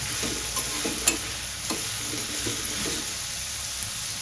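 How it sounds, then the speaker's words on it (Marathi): Vegetables and two coarsely chopped green chillies being sautéed in a pan for veg fried rice, a steady close sizzle with repeated scraping stirs and clinks of a spatula throughout. "इथे भाज्या छान परतून झाल्या"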